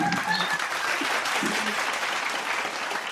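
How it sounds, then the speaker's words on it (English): Applause during a morning devotion session, requested as a virtual round for a participant, a steady dense patter of clapping lasting throughout, with a few faint voices and tones under it. "let's give him a virtual round of applause"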